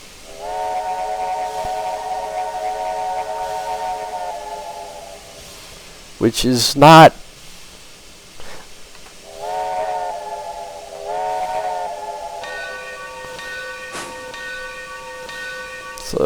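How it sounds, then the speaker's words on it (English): Steam locomotive whistle of a Union Pacific 0-6-0 in the Trainz 2019 simulator, sounding two long chime blasts with a sharp burst between them, then a higher, thinner tone near the end over steady hiss; a voice speaks briefly. "but it does have a different whistle"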